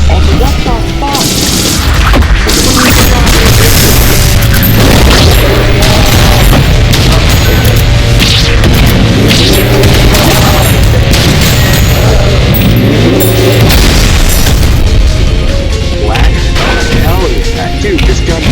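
Heavy gunfire in the Ultrakill shooter game, loud repeated booming shots and crashes packed densely over a driving, constant soundtrack, with a voice talking at times underneath.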